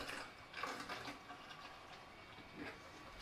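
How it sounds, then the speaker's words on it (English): A gallon of water poured into a smoker held at 225 degrees for cooking beef short ribs: a quiet, steady splashing trickle with a few louder gushes, heard alone. "Then we'll add 1 gallon of water."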